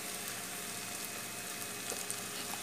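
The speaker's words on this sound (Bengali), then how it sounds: "এখন আমি আদা রসুনটাকে হালকা 2-3 সেকেন্ডের মতো ভেজে নেব" Ginger and garlic frying in a pan: a steady, soft, even sizzle that holds at low level throughout, with no talking.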